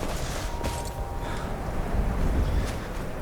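Steady wind gusts across an outdoor landscape in Skyrim, a broad continuous rushing roar that swells and eases, fairly loud and alone with no talking.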